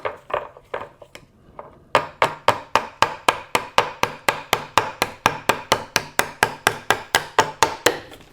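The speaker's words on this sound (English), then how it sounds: "Let's go ahead and lightly tap it with this jeweler's hammer." A small jeweler's hammer taps lightly on a part of a homemade fusor, first in a few scattered knocks, then in a steady run of about twenty sharp, evenly spaced metallic taps, close and clear with no talking.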